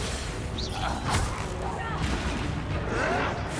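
A Confringo fire-blasting spell in Hogwarts Legacy explodes amid a dense, noisy mix of booming bursts and crackling combat effects, while character voices talk over the action.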